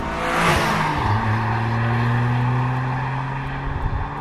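A 2024 Toyota GR Corolla Circuit hot hatch drives by, its engine note climbing and holding a steady drone, then easing off near the end, close and fairly loud with no talking.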